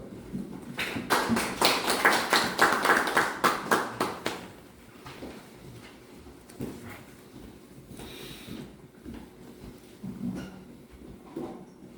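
An audience at a policy forum gives a short burst of applause, with dense clapping for about three seconds that then fades out, leaving quiet room noise and faint movement.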